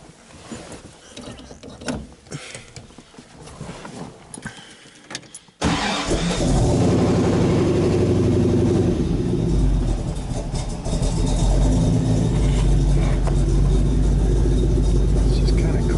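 An old car engine cranks and catches after a few seconds of quieter background, then settles into a loud, rumbling idle that runs steadily.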